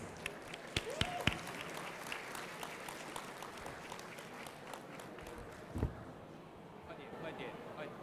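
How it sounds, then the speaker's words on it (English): At a formal national day reception, guests give a round of applause for a congressman's remarks, faint and distant clapping spread over several seconds, with a few louder nearby claps and some voices underneath. "let's welcome Congressman Brad Sherman with a round of applause for his remarks."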